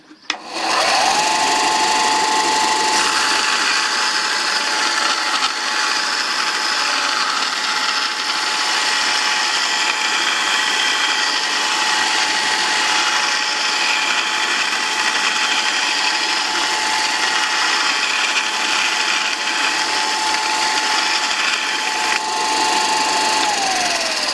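A Porter Cable 4 in by 36 in belt sander with an 8 in disc rounds the corners of 1/4 inch aluminum, giving a loud, steady high whirring grind that spins up quickly and runs unbroken.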